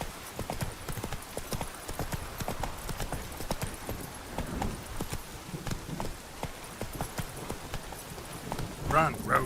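In The Witcher 3: Wild Hunt, a horse gallops with rapid, rhythmic hoofbeats against soft ambience, followed by a short snort or whinny at the end.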